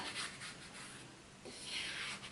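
Apple pie pastry being scraped up off a floured work surface, a soft, quiet rubbing and scraping that comes in uneven strokes, close by and without talk.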